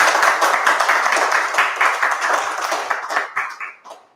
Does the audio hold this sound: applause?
yes